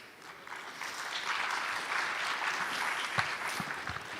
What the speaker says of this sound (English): our moderator, Mark West from UNESCO, with a big round of applause.